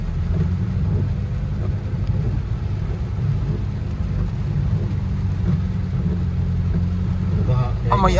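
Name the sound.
heavy rain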